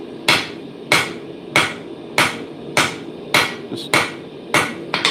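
A hammer strikes hot steel in a steady, evenly spaced series of about nine ringing blows, close and loud, while forge welding the lapped seam of a socketed chisel.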